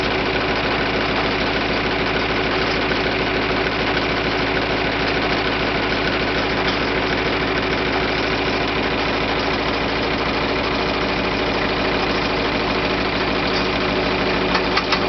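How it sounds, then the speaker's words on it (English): Engine-driven winch pulling in cable to drag a mobile greenhouse along its track, a loud steady mechanical drone with a fast rhythmic chug that holds constant throughout, with no talking. "just yank on this cable, and it slowly pulls the cable in to the winch"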